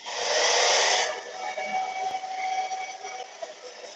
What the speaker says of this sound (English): I'm gonna turn on the hair dryer here.